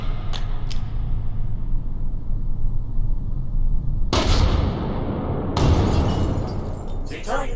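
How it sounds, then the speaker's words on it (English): An RPG-7 rocket launcher fires in a video game: after a steady low rumble, a loud blast hits at about four seconds and a second one at five and a half seconds, each followed by a rolling, fading roar. "As you can see, it's a large, slow-moving, high-explosive projectile. This is an RPG-7."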